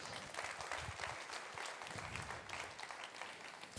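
A church congregation applauds softly and at a distance, a faint but continuous patter of many hands that lasts about four seconds.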